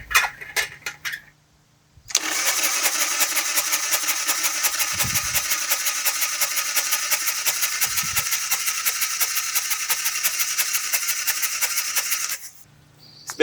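A Harley-Davidson motorcycle that has been sitting for years is turned over with the spark plugs out, producing a steady hissing, rapidly pulsing crank for about ten seconds, close by and loud, with brief quiet gaps before and after.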